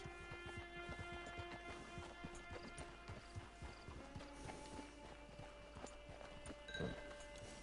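Steady clip-clop of horse hooves at a walking pace, close by, with a soft whinny near the end over a layered game-style ambience from Red Dead Redemption 2 Online.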